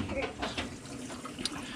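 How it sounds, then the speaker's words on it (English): Water runs steadily from a fountain in a dim church, a continuous soft splashing trickle heard close and fairly quiet from start to finish. "Get a water fountain."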